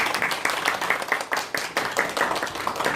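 A church congregation claps for a missionary pastor serving in Tanzania, producing a short burst of uneven hand claps with a loose rhythm at moderate volume and no talk over it.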